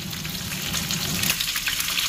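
Fish sizzling steadily in hot cooking oil beside the sea, a dense continuous crackle and hiss heard close up with no talking.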